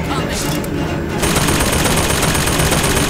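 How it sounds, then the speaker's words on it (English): Turret in Bioshock Infinite firing a loud, continuous rapid burst of automatic gunfire, dense and close, with a brief quieter stretch before the barrage swells and holds steady. "There's turret. There's another turret."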